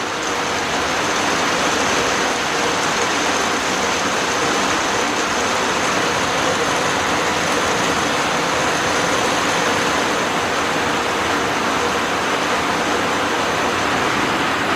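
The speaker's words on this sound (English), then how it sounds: "Is it ever raining outside? Wow, it's like a monsoon." Heavy monsoon-like rain pours steadily outside a greenhouse, a dense, loud and unbroken hiss with no pauses and no voices.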